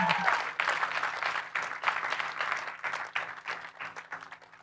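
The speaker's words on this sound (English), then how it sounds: "Clap for Chantal" Guests clap for a graduate at a graduation celebration, a dense run of overlapping claps that starts loud and gradually thins out, with no voices over it.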